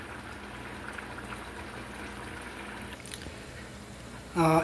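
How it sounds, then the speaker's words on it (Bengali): Bhetki fish curry gravy simmers in a pot, a soft continuous bubbling that stays quiet and steady, ending with a brief voice at the close. "আমরা আরও কিছু সময় একটু ঝোলটা টানাবো, তারপরে এটা নামিয়ে ফেলব।"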